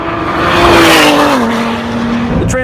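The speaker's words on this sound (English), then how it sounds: "It may not be a V8, but it sounds a lot better than a V6 that shares the same block from the Ford F-150." A 2017 Ford GT with its twin-turbo V6, sharing a block with the Ford F-150 engine, accelerates with a loud, steady droning tone that dips slightly midway, as if shifting gears, heard close and without talk.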